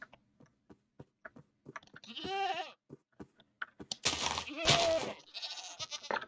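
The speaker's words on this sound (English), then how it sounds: "Goats are pretty funny." Goats bleat in short wavering cries in Minecraft Java 1.17, mixed with clicking footsteps and bursts of louder game noise, fairly close and moderately loud.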